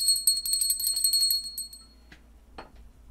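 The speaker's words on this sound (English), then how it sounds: "I got a bell." A small bell given as an anniversary gift rings with bright, shimmering tones for about two seconds, then fades, followed by a couple of faint knocks.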